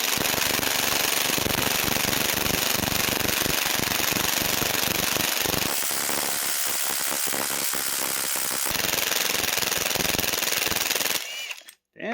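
Rapid rattling hammer bursts of an impact wrench removing the crankshaft pulley from a Chevy 4.3 Vortec V6 during an engine refresh, loud and close, with a brief pause midway before it stops abruptly.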